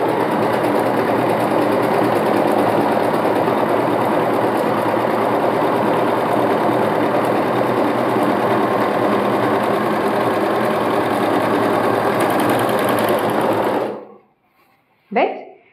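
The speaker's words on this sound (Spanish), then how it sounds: "Con la remalladora tenemos una ventaja que va sobrehilando y va cortando el hilo, vaya, la tela que sobra" An overlock serger sews a trouser seam and trims off the excess fabric, running steadily and loudly for about fourteen seconds, then stopping. A brief knock or handling noise follows in the quiet.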